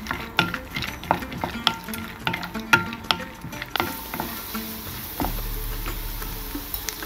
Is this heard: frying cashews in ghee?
yes